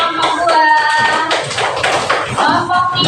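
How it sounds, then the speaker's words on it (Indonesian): Classroom audience in an Indonesian teacher-training session clapping for a student group: a brief burst of close, lively hand claps under a speaking voice. "tepuk tangan untuk kelompok"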